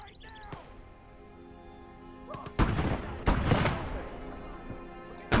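Heavy artillery guns in a war video game fire in loud, booming blasts, two big reports about a second apart rolling out over quieter ambient battle noise, with a faint final thump at the end.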